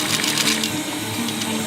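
A sewing machine runs steadily while stitching a fabric roll-up bag, a continuous close mechanical whir with light rapid needle clatter, no voices.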